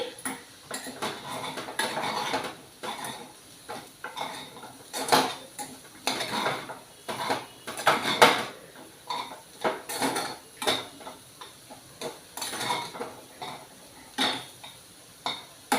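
A spoon scrapes and clinks against a pan in repeated bursts as salt is stirred into a potato fry, close and fairly quiet with soft sizzling beneath.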